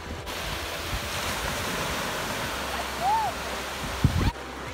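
Light sea wind and gentle North Sea surf on an evening beach, a steady broad wash of breaking waves and wind noise across the microphone, with a brief bird-like whistle and a short knock near the end.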